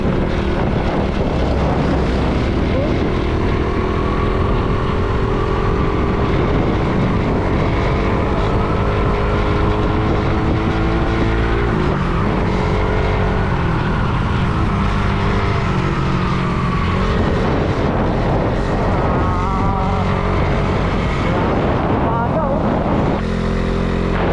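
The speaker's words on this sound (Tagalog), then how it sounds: "Pero kaya ng tricycle dito." A tricycle engine driving along a winding road, a loud continuous motor drone with wind buffeting the microphone, rising and shifting as it takes curves, with a voice talking briefly over it.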